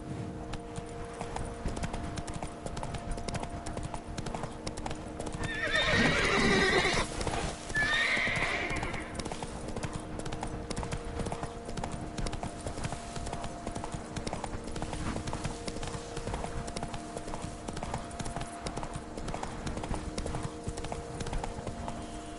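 Horse hooves galloping steadily in The Witcher 3 video game, a continuous loud clip-clop rhythm throughout, with a brief whinny near the middle and no talk.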